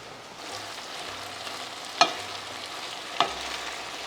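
Sausage and soft potatoes heating together in a pan give a steady, moderate sizzle, broken twice by sharp clinks from a utensil against the pan, with no voices.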